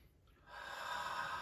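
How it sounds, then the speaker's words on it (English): A single deep breath drawn in slowly, close and soft, rising from near silence into a steady airy inhale with no talking. "take a deep breath now"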